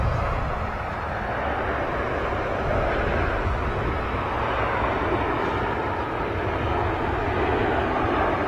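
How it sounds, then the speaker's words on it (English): A Ryanair Boeing 737 landing long at Manchester Airport makes a sustained, fairly distant engine rumble and rushing roar, steady and unbroken, with no talking. "Bit of a long touchdown there from the Ryanair 737."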